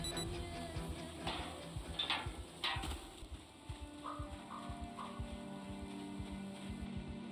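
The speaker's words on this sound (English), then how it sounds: "there's our get the hell out alarm" In the zombie survival game Project Zomboid, a faint in-game alarm gives a few short repeated beeps amid quiet ticking and clattering background sounds, with no talking.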